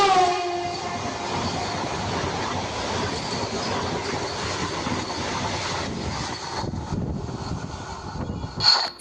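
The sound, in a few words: train departing with whistle blowing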